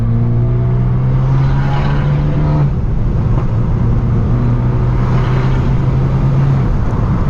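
A stage 2 BMW F30 328i engine drones steadily and loud from inside the car, its tone holding, dipping briefly near the middle, then rising and settling again as it is driven on the road.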